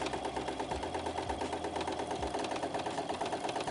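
Brother NX-200 computerized sewing machine stitching free-motion, a fast steady mechanical needle chatter with faint rhythmic thumps, moderately quiet and close, without speech.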